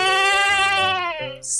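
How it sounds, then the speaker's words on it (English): A goat gives one loud, close bleat, a harmonic wavering cry that falls slightly in pitch before cutting off, heard alone without any talk. "goat,"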